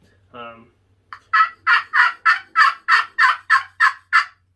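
A turkey call struck with a striker in a fast series of about ten loud, evenly spaced yelps, preceded by one short lower squawk, with no other sound around it.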